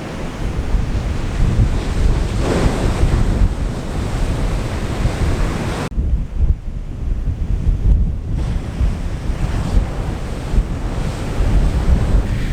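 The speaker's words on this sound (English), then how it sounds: "waves today are a hell of a lot bigger than they were yesterday" Ocean waves breaking on the Isle of Harris coast, a continuous loud roar of surf with heavy wind buffeting the microphone, no voices.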